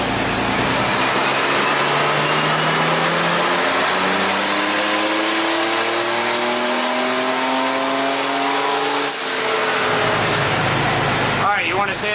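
Air-cooled Porsche 930 with a big turbo revving on a dyno, its engine note climbing steadily in pitch and loudness over about ten seconds at partial throttle, then dropping off near the end.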